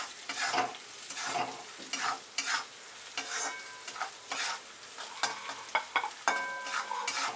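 Slit red and green chillies roast in a pan with a soft sizzle, cut by repeated scraping strokes of a spatula as they are stirred at close range, with no voices.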